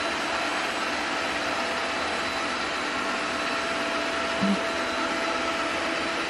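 A vacuum-type machine drones steadily and loud throughout, a constant broadband whoosh with a faint tonal hum, with one brief soft knock near the end and no talk over it.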